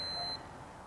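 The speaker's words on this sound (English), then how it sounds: "it'll actually make the beeping sound when it hits 5 seconds" A DGT Easy+ chess clock gives a single short, high-pitched electronic beep as it reaches five seconds, followed by quiet room tone with no voices.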